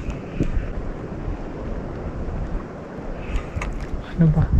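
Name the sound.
strong wind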